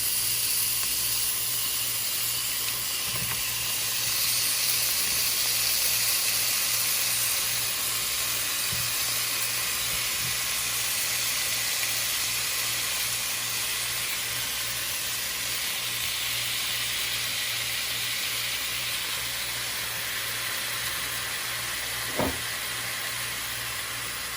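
Eggs sizzle in a hot skillet alongside steak with a constant, even hiss and a few faint clicks and taps from the pan, with no talking.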